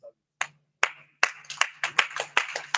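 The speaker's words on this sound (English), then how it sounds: "Round of applause for you." Scattered claps start one at a time, then quicken into a brief patter of light applause from a small group in a Zoom meeting.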